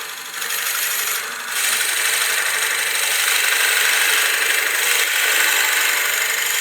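Forstner bit drilling into a wooden block on a lathe at slow speed, a steady close grinding rasp over the lathe's hum, continuous throughout with no talk.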